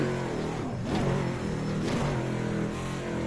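A modern NASCAR stock car braking hard on the Nordschleife, its loud engine note shifting and dropping in pitch as the car slows, with a steady roar throughout.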